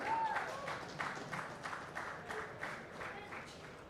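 Applause breaks out for the runner-up at the Bengaluru Open 2025 prize ceremony, a modest crowd clapping at a moderate pace, fairly quiet and slowly fading.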